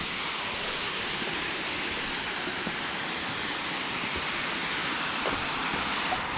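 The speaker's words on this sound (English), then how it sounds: "Little man-made waterfall." Small man-made waterfall beside a dam, a steady broadband rush of falling water holding at an even level throughout, with no voices over it.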